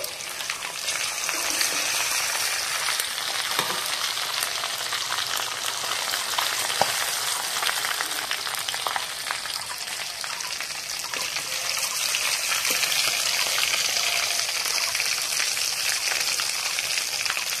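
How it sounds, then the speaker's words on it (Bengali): Chicken pieces fry in hot oil for a biryani, a steady, dense sizzle and crackle that continues close up without a break and with no talking. "কত সুন্দর লাল লাল করে চিকেনগুলো ভেজে নিয়েছি, এইবার তুলে নিচ্ছি"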